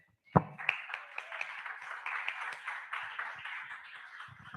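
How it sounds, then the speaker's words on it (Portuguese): A church congregation claps steadily for several seconds, a dense patter of applause that stays even after a sharp first clap, during a worship service. "aplauda o Senhor"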